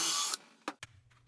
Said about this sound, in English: So here I am screwing in the 1x2 pine to the sides of the cabinet.